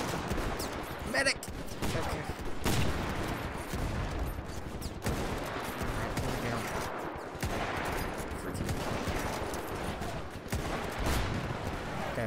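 Gunfire in the Parabellum mod for Mount & Blade Warband, scattered musket and rifle shots crackling through a noisy battlefield din, with someone talking over the continuous action.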